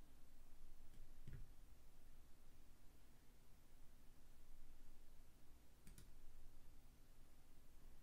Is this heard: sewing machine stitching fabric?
no